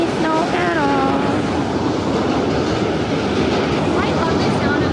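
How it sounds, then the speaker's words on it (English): A New York City subway train rolls past steadily with a loud, dense rumble and a brief rising squeal, recorded nearby on a snowy day in a continuous wash of rail noise. "I love the sound of the subway car, I will say."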